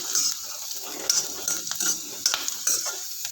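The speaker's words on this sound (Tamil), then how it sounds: "புளியும் போட்டு வதக்கணும்" Pirandai (adamant creeper) and tamarind sautéed in a pan, with a spoon scraping and clinking against metal in repeated strokes over a soft, continuous sizzle, up close.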